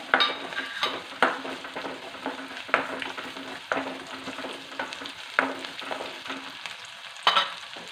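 Green chillies fry in a pan, a soft continuous sizzle punctuated by about eight sharp scraping stirs at uneven intervals, close by and without voices.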